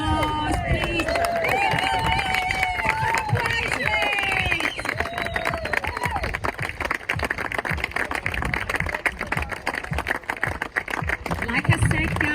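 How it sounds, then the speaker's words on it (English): Wedding guests clap and cheer for the arriving bride and groom, a dense, steady wash of applause with crowd chatter and whoops running throughout, loud and sustained with no single voice standing out. "Give them a round of applause, please."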